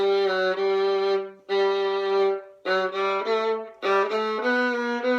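A bowed viola plays a slow melody from the first page of a piece in sustained notes, with short pauses between phrases, close and clear with no other sounds.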